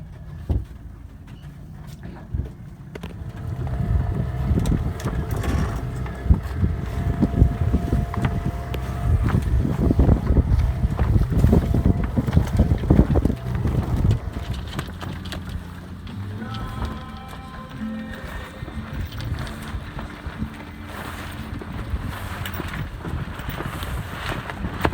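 A Sparkman & Stephens 24 sailboat under sail, wind rushing over the microphone with water swishing against the hull, louder gusts in the middle that ease off toward the end.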